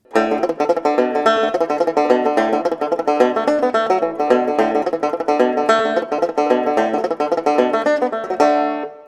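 Rapid plucked banjo notes drive a lively Irish reel, packed with quick triplet flourishes in a steady, bright, unbroken run with no voices.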